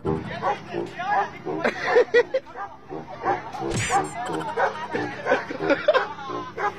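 Dogs bark and yip in short bursts amid a noisy background with people chattering; some whimpering sounds mixed in.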